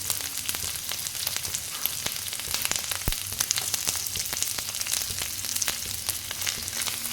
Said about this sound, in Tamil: இப்போ வரமிளகாவையும் கருவேப்பிலையும் சேர்த்துக்கலாம்.